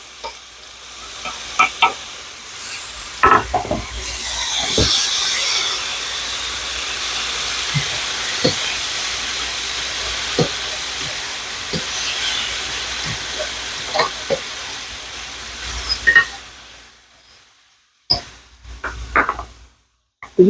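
Vegetables sautéing in a hot pan at home, loud continuous sizzling and hissing with repeated scrapes and clacks of stirring, then a sudden drop to near quiet before a few more stirring knocks.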